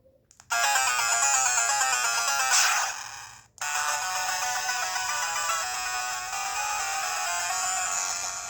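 Chiptune music from the Game Boy Color game Ghosts and Goblins played through the small built-in speaker of an RG35XX Plus handheld, a bright, thin, steady melody with one short dropout near the start, no voices.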